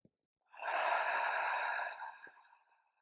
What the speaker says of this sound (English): Cleansing inhale and exhale.